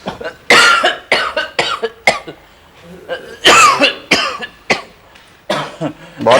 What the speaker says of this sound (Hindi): बहुत खांसी चल रही है?